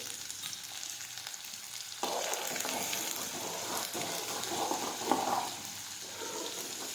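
Spice tempering with turmeric in hot oil for a Gujarati guvar chhashiyu, a soft background hiss that jumps into a loud, close, continuous sizzle partway through and holds steady, with no talking.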